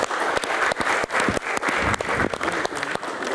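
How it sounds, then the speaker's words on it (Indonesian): An audience at a Q&A session gives Habib Jafar loud, close applause, many hands clapping in a dense, lively burst that carries on throughout. "Tepuk tangan dulu Habib Jafar."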